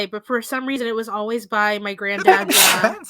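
A single loud sneeze bursts out near the end, right after a stretch of casual conversational talk, close and sharp.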